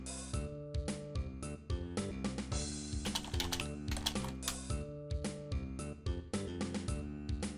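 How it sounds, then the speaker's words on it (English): Rapid typing on a computer keyboard clatters close up in irregular bursts of keystrokes over steady background music. "sorry if you hear a little tippy-tappy on my keyboard"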